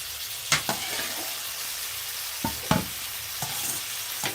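Half-boiled cluster beans frying with chili powder in a pan, a steady sizzle broken by a few sharp spatula clatters as they are stirred, close and alone.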